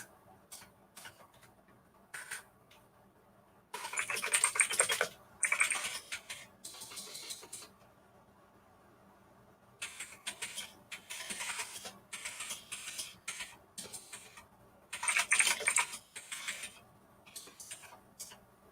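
Computer keyboard typing in quiet bursts, with a dense run of clacking keystrokes around the middle and another flurry near the end, separated by pauses and faint room noise, close and fairly soft.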